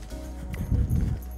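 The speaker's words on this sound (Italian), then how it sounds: "Adesso cerchiamo di mettere un pochino più regolare il trotto." A horse trots during a training exercise, its hooves landing in a quick, fairly regular clip-clop on the ground. The hoofbeats sound moderately close and swell slightly toward the middle, with no speech over them.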